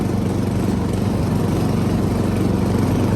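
Steady close drone from the engine of a 1985 Snapper riding lawn mower running smoothly after a carburetor repair, a loud continuous low putter with no pauses and no talk.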